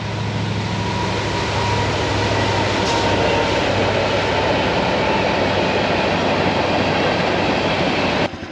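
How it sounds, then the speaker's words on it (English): A train passes near a small neighborhood park, its loud rumbling roar rolling on steadily and evenly, cutting off abruptly at the end. "Oh, here comes that train again."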